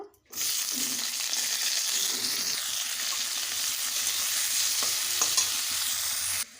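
Pointed gourd (potol) pieces frying in hot oil that was just used for potatoes, a loud continuous sizzle with scraping stirs that runs for several seconds and then cuts off sharply.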